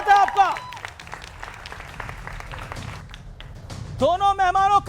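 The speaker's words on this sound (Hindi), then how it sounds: "दोनों मेहमानों का स्वागत है जोरदार तालियों के साथ" Studio audience applause welcoming two political guests on a Hindi TV debate show, a steady dense clapping bed running under a host's voice, swelling louder again near the end.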